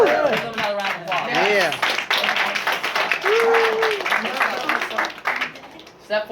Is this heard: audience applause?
yes